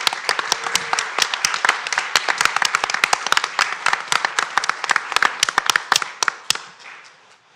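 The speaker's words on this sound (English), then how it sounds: "Let's give one more huge round of applause to all the honorees for their extended service." At an advisory board meeting, a modest group applauds honorees with distinct, crisp individual hand claps in an uneven rhythm that gradually thins and stops near the end.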